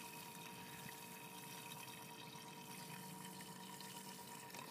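Air pump bubbling into a backyard fish pond, a steady, fairly faint hiss and fizz of aerated water running continuously with no pauses.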